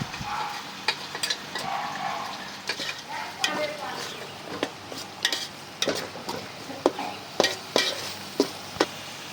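Onions frying with ginger, garlic and cumin paste for chicken bhuna, a soft steady sizzle broken by repeated sharp scrapes and clinks of a spoon stirring against the pan.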